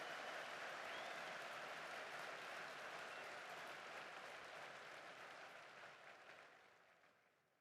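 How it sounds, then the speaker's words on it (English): Audience applause at the West Point military academy graduation ceremony, a broad, steady wash of clapping from a large crowd that holds level and then fades out toward the end. "how about a round of applause for the class of 1974 and their outstanding dedication to the class of 2024"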